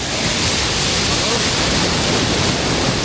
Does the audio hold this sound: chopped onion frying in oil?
no